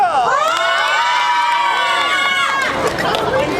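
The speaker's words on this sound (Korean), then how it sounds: "박수 주세요" A street busking crowd in Hongdae cheers and whoops loudly for an idol group, a dense wash of shouting voices close by with little pause.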